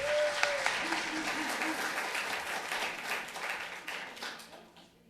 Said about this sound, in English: Give yourselves a big round of applause just for being here today.